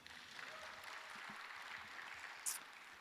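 Faint applause from an audience at an academic presentation and poster competition, a steady soft patter of many hands lasting the whole stretch with a brief brighter burst near the end.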